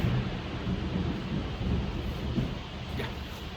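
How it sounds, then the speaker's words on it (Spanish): Thunder rumbles low and continuous through a heavy rainstorm, heard from indoors with the window closed, steady rain hiss beneath, no voices. "¿Escucharon el trueno o no? Ahora ese sí lo escucharon."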